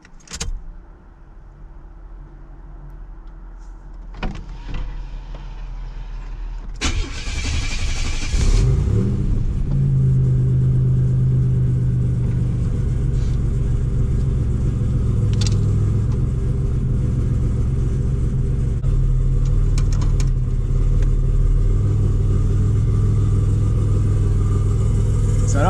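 A 1987 Buick Regal T turbo with a low battery cranks and starts, then settles into a loud, steady engine rumble from inside the cabin as it pulls away on its first drive, with a few faint clicks and rattles.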